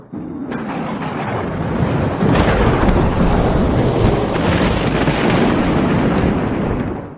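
A thunder sound effect opens a podcast intro, a sustained loud rumbling roll with sharp cracks near the start and middle, lasting several seconds with no talking.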